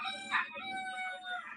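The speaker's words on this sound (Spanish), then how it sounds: "está cantando fuerte ese gallo" A rooster crows loudly, one drawn-out call with a strong rise early on, heard indoors over steady background noise.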